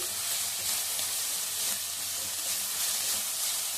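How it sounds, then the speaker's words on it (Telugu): Fresh coriander and turmeric frying in hot oil in a pan, a dense, steady close sizzle and crackle that swells slightly as it is stirred, alone with no voices. "ఇప్పుడే ఈ కొత్తిమీర స్మెల్ అంతా పోయేంత వరకు మంచిగా ఆయిల్లో అయితే మగ్గించుకోవాలి"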